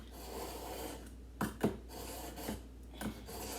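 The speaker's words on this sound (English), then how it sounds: "Just sharpening these knives." Kitchen knives scraped along a sharpener give a few short rasping strokes in an irregular rhythm, close and fairly quiet over low background hum.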